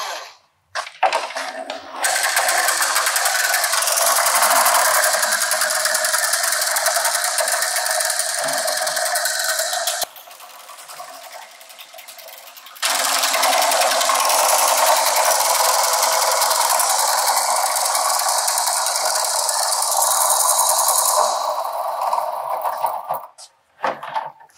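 A battery-powered mini drain cleaner whirs steadily and loudly as its cable runs through pipe fittings with knuckle 90s and 45s, briefly dropping to a softer hum mid-run before resuming, then stopping.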